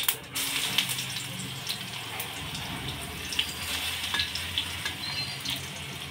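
Mustard seeds, cumin and garlic paste fry in hot oil, giving a continuous close sizzle with scattered light crackles and pops and occasional stirring scrapes, with no talking.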